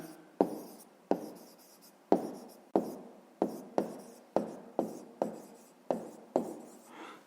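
Pen strokes on paper during handwritten schoolwork: a steady series of about a dozen short, distinct scratching taps, close and quiet, with no speech.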